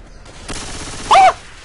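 Gunfire in Left 4 Dead 2, a rapid, rattling burst of shots at close range that builds and peaks in a loud, sharp cluster before cutting off abruptly.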